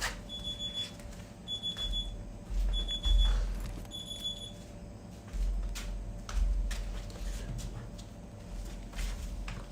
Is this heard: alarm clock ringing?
yes